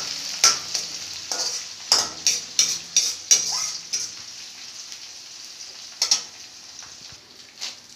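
Cumin, garlic and onion fry in a pan with a soft sizzle beneath repeated sharp scrapes and clinks of a spoon stirring against the metal, close and without talk.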